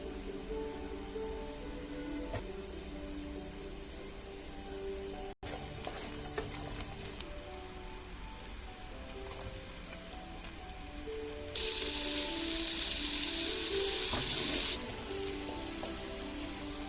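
Onions and garlic frying in a pan while cooking eggplant, a soft steady sizzle running throughout, with a brief louder hiss partway through.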